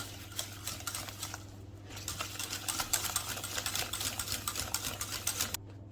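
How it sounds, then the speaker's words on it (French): A whisk or spoon beats egg yolk into warm pastry cream for a soufflé, giving a steady run of quick, light tapping and scraping strokes against a bowl, close and fairly soft, with a low hum underneath and no talk. "On va rajouter le jaune d'œuf et on va venir mélanger."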